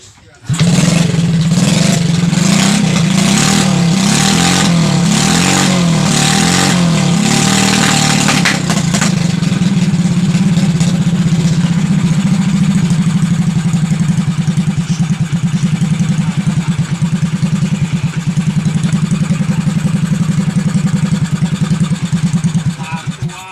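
Motorcycle engine running close and loud, revved with the throttle in pulsing bursts early on, then held at a steady high drone for the rest, with no voices over it.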